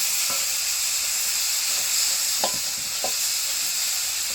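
Masala with tomato, salt, coriander powder and Kashmiri chilli powder fries in a pan with a constant close sizzle and hiss, broken by a few soft scrapes of stirring.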